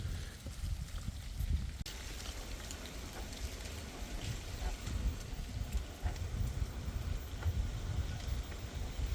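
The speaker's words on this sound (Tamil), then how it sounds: "இந்த காற்றுக்கு இலைகள் பறந்தடிக்கிற ஓசையே நல்ல இதாக இருக்குது" Wind gusts rustle and blow autumn leaves along a road beside a park in Dartford, Kent, a steady broadband rushing texture throughout with no voices.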